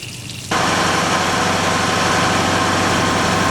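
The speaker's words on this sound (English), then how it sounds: "So we have the engine running, and it looks like we have water circulating through the engine." A marine engine with a cracked block, repaired and running with water circulating through its exhaust manifolds, kicks on abruptly after a quiet half-second and then idles loudly and steadily with a heavy, even rumble.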